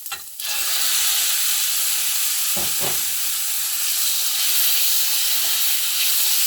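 Chicken hits hot oil with a sudden loud sizzle that continues as a steady hiss and crackle, with a couple of brief clatters partway through.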